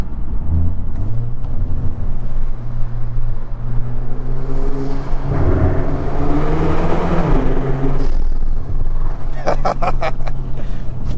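A Hyundai Veloster N with a dual-clutch transmission accelerates hard through a tunnel, its engine note climbing in loud, echoing pulls from inside the cabin, with a sharp gearshift crackle near the end.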